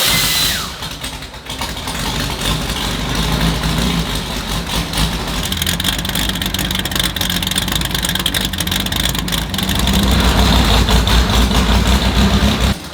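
A V6 race car engine cranks and catches, then settles into a loud, rough, throbbing idle with steady low rumble, swelling slightly louder near the end.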